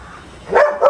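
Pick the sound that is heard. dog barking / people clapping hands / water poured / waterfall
dog barking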